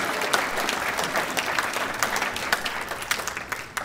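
An audience at a fundraiser auction and recognition event breaks into sustained applause, dense clapping from many hands close by with some cheering mixed in.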